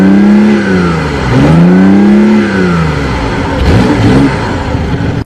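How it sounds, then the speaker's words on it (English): The three-cylinder gas engine of a BMW i8 revs loudly and close by, rising and falling in repeated sweeps of acceleration over about five seconds before cutting off abruptly. "the sound of the gas motor is pretty aggressive for a 3-cylinder"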